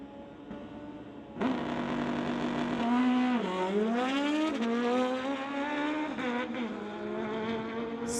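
Drag race between a 2005 Suzuki and a 1972 Kawasaki motorcycle: a loud engine note kicks in and climbs through rising revs with gear shifts, holding strong and near throughout.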